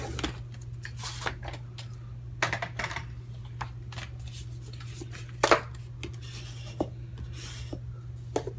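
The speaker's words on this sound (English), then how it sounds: "I'm going to emboss it at halfway at 4 1/4 so it's easier to fold." Cardstock for a standard half-cut card is embossed along its halfway fold line, giving soft, scattered scraping and rubbing strokes with a few sharper ticks over a steady low hum, close by and with no speech.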